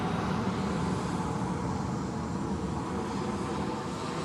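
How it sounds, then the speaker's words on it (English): Boeing 787 airliner of All Nippon Airways at Sydney Airport at night: a distant, steady jet roar with broad rushing noise that slowly fades, no speech over it. "Another 787 service coming out."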